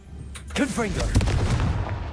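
A Confringo blasting spell in Hogwarts Legacy goes off as a sharp burst followed by a rumbling boom, loud and close, with a voice speaking over it.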